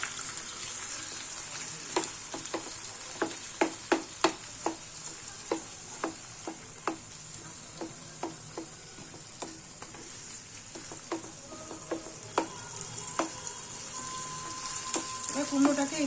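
Boiled, squeezed-dry pumpkin is stirred into onions in a frying pan for a pumpkin bharta, a steady sizzle running under repeated sharp scrapes and taps of the spoon against the pan, close and clear with no talk.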